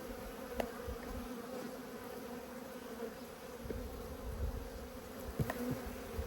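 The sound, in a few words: honey bees buzzing during hive inspection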